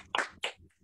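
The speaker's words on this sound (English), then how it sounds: "Little round of applause for David Shaw." Two sharp hand claps, close and distinct, ring out in a comedy podcast studio with a quiet low hum between them.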